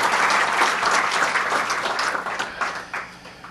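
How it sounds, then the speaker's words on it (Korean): An audience applauds during a political speech by Roh Moo-hyun, steady broadband clapping that starts full and slowly thins out toward the end. "이럴 때 박수 한번 쳐주셔도 괜찮습니다."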